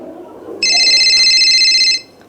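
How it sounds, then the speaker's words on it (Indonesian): Telephone ringing in a studio during a live Indonesian TV call-in show on press freedom: one electronic ring burst of about a second and a half, loud and close, after faint room tone. "Ada telepon, kita coba angkat."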